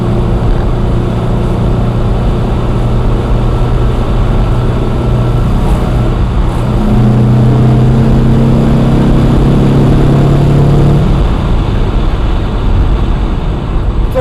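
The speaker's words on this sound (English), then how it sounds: "Third gear pull, she has a little juice to her." A Porsche 912, running again after about 30 years off the road, pulls hard in third gear, its engine drone steady and loud throughout, then climbing in pitch partway through as it accelerates.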